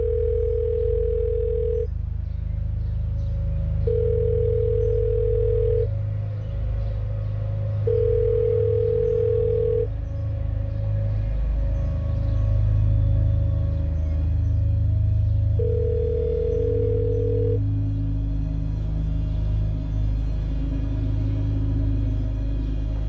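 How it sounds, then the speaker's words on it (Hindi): A mobile phone ringtone repeats in steady bursts with short gaps, playing over a low continuous background hum in an indoor room. "रिंग बज रही है पर पता नहीं कहाँ पे रख दिया फोन।"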